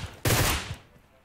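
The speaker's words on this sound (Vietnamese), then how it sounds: "tiếng súng trước mặt này" Gunfire in the battle royale game PUBG Mobile: a single loud, close burst of rapid automatic shots lasting about half a second, then a fading echo.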